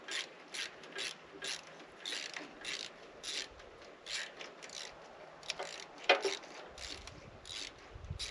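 A socket wrench ratchets on a bolt of a long-parked IH 806 LP Standard tractor, about a dozen close, rhythmic clicking strokes with a brief metallic clank near the end.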